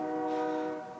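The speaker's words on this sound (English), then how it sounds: "you can hear the train in the background" A distant diesel train horn holds a steady chord through most of the moment, fading slightly toward the end, with no speech over it.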